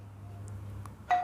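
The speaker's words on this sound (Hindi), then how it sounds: "डोरबेल अभी जो बजती है ना" Electronic doorbell chime in a home, a short bright tone ringing out near the end after a quiet stretch of low hum and faint blips.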